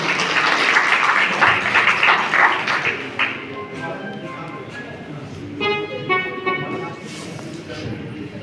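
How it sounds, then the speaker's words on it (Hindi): Audience applause with cheering welcomes retired instructor Asha Saxena to the stage at a Hindi New Year function; dense clapping fills the first few seconds, then thins into scattered claps and murmuring with some tonal music or voices near the end. "तालियों के साथ स्वागत हो।"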